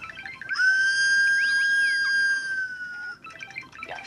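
A 1980s Faber toy whistle, made in Germany to drive little race cars, blows one sustained shrill tone for about two and a half seconds, close and loud, with faint rattling before and after.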